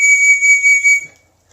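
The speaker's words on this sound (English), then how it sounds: "A little survival whistle that only has one flute" A small single-flute survival whistle blown in one long, loud, piercing steady blast of about a second that then cuts off, leaving near silence.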